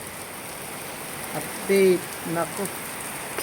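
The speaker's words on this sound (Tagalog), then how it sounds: "Oh, lakas ng ulan, oh." Heavy rain pours in Camarines Sur as a steady, even hiss that fills the whole clip. A voice briefly speaks over it.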